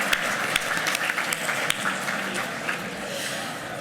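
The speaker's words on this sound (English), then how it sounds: "Yes, applaud for the partners." An audience at a business hall of fame ceremony applauds event sponsors, a dense wash of clapping with scattered sharp claps that gradually thins and fades toward the end.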